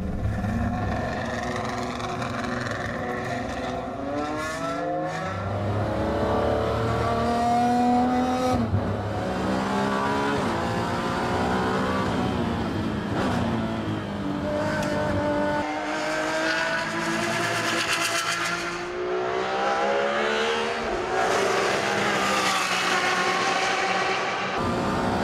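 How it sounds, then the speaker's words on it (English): A Ferrari 599XX race car lapping a track, its engine loud and close, rising and falling through gear changes with high revving wails, brief lifts off the throttle and a sustained roar. "These are my extremely privileged 4 laps in the 599XX."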